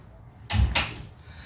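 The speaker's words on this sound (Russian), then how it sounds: "Сейчас я дверь прикрою." A home door being pulled shut after coming in from a rainstorm, two quick muffled thuds close together, near and moderately loud against a quiet room.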